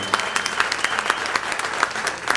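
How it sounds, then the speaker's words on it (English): An audience at a club tribute evening claps for a jazz trio, brisk applause with individual claps popping out over a steady bed of clapping. "Give them a round of applause."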